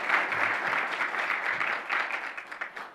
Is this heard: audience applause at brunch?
yes